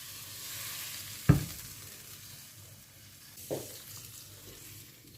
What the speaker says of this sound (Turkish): Gördüğünüz gibi kaynamaya devam ediyor